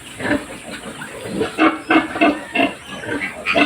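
Piglets on a small backyard farm squeal and grunt in short repeated bursts at feeding time, close and loud, with a faint hiss in the background.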